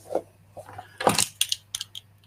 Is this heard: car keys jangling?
yes